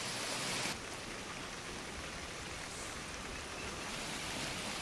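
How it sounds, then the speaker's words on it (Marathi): Heavy rain lashes down with stormy wind in Khed, Ratnagiri, a dense, steady roar of downpour that fills the scene without pause and with no voices. "मोठ्या प्रमाणात इथे पाऊस पडतोय, वादळी वाऱ्यासह पाऊस पडतोय"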